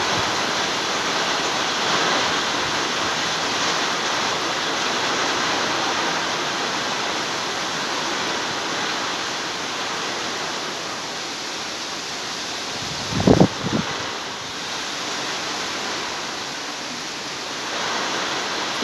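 Heavy rain pours down in a dense, steady hiss during a violent summer thunderstorm, with a brief louder burst partway through that may be a thunderclap.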